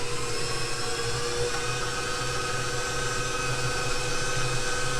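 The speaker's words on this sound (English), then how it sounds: "Let's go and mix it on low for a few minutes here just to see if we can get it looking a little better" An electric mixer churns cookie dough at low speed, giving off a constant, even motor whir with a low hum that holds steady throughout, close and fairly loud, with no talking.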